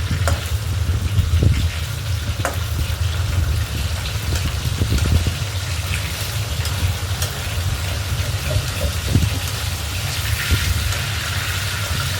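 Fish pieces sizzle in hot oil in a pan for a thin fish and potato curry, a constant close frying crackle over a low rumbling hum, with a few soft knocks as the fish is turned.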